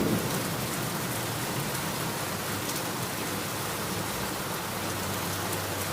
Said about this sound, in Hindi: तभी तेज बारिश के साथ साथ ओले भी गिरने लगे।